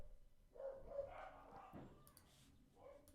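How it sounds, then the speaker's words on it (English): Several dogs barking and yipping indoors in quick excited bursts, fairly faint and somewhat distant, with a voice talking alongside. "You hear my dogs go nuts."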